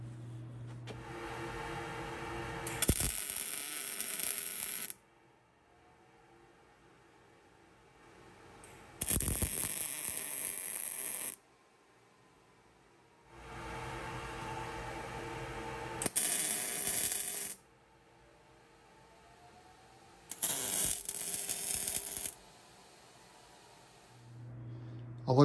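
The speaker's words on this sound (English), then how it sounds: "So with the torch in my hand, it's spark making time. I'm going to put a nice tack on the four corners." A torch tack-welds the four corners of a steel bicycle repair stand in four loud, crackling hissing bursts of several seconds each, separated by quieter gaps with a faint hum.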